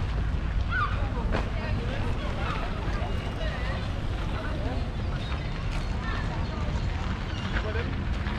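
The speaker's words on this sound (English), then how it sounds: "Yeah, it's a bit windy." Steady wind buffets the microphone outdoors in a Norwegian fjord at Stavanger, a constant low rumble with faint water and rigging sounds beneath.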